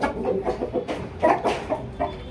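A millet-coloured pet rooster clucks in short, close bursts, a quick series of throaty clucks repeating over a couple of seconds.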